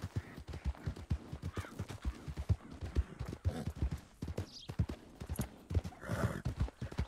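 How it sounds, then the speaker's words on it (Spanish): Horse hooves clip-clop steadily in a video game, with several neighs and whinnies rising over the galloping rhythm, fairly close and continuous throughout. "Como me gusta mi caballo."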